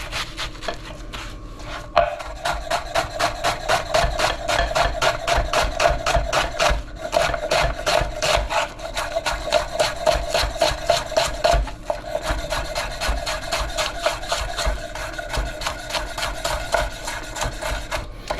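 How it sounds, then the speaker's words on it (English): A knife chops ingredients finely on a board in fast, even, repeated strokes. The chopping is close and steady, keeps going for the whole stretch and is heard alone, with no talk over it. "Just finely chop this one."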